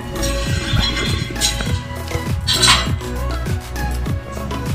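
A utensil clinks and scrapes repeatedly in a bowl, mixing malunggay leaves with egg and salt, forming a quick, uneven rhythm of close tapping strokes without talk.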